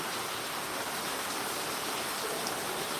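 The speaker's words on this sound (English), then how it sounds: "It's raining heavily." Heavy rain falling in Bayelsa State, Nigeria, a dense, even hiss of downpour on surfaces that stays constant and fairly loud throughout, with no talking.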